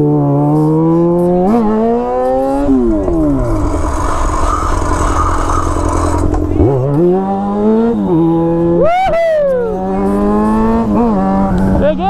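A loud Yamaha XJ6 motorcycle engine revving up and down repeatedly, its pitch sweeping high and falling back, close by and continuous throughout.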